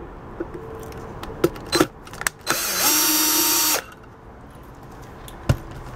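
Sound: removing a screw from a pressure cooker

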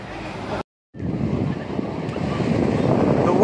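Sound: strong wind at the beach

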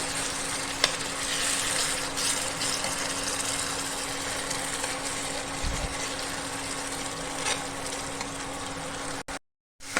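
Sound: frying cashew, poppy seed and coconut paste in chicken masala

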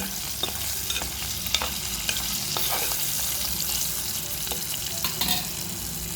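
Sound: salted fish frying in pan

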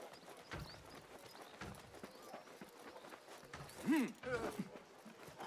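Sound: camel steed hoofsteps in video game Assassin's Creed Mirage

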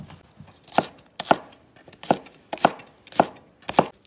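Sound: chopping scallions and ginger with a knife

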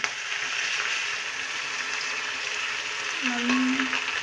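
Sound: eggs frying in a pan with tomato

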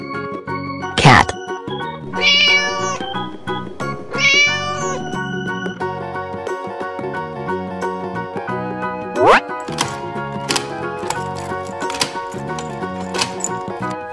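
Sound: cat meowing

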